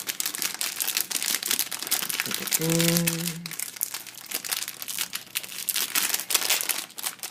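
Packaging crinkles and tears up close in a busy stream of crackling rustles, with a short low tonal hum briefly in the middle.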